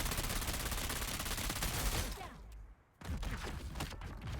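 Rapid gunfire in the video game Dune Awakening, a dense, loud sustained burst of shots that cuts out briefly and then resumes just as heavily, with no voices over it.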